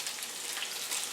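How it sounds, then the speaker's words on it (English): Steady, hissing sizzle of onion frying in hot bacon fat in a pan, close and even throughout a short moment. "we drop the onion in here, in our bacon."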